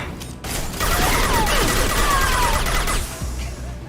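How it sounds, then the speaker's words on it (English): Locust submachine gun in Mass Effect 2 fires a sustained, loud burst of rapid automatic shots with mechanical clatter, running for about two and a half seconds before cutting off. "Let's bust out this locust"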